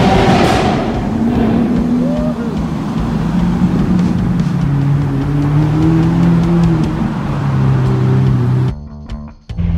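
A Batventador, a Batman-styled Lamborghini Aventador, drives on a London road with a steady engine drone and shifting tones from revving, then cuts off abruptly near the end.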